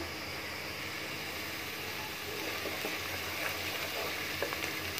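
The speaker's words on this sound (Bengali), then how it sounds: "সময় নিয়ে পেঁয়াজটাকে ভেজে নিচ্ছি।" Onions frying in oil in a pan for a Bengali morog polao, a steady close sizzle with faint crackles and pops that grows slightly louder partway through, with no voices.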